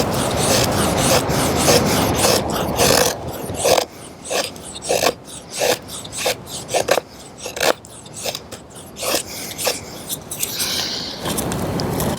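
Schrade Sure Lock Extreme knife carving feather sticks from poplar wood: rapid rasping shaving strokes, first continuous, then a series of separate scraping cuts with brief pauses, close and loud with no talking.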